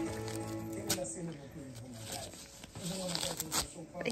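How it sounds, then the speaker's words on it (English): A dog named Marsh ripping things up with its mouth, making several close tearing and crinkling rips in uneven bursts while a person talks over them. "So I just learned that Marsh can like rip up things."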